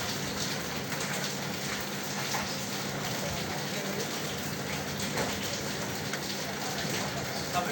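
Steady rain patters and hisses on surfaces close by, forming a dense continuous wash with scattered droplet ticks throughout.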